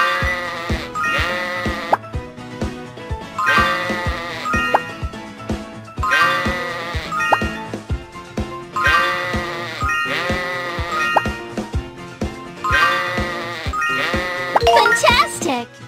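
Cartoon sheep bleating in a Dora and Friends Android game, repeated bleats in a steady rhythm over game music, alternating with a cheerful voice talking.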